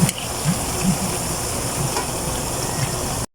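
Banana chips frying in hot oil, with a steady close sizzle and bubbling hiss and faint soft stirring knocks, ending abruptly.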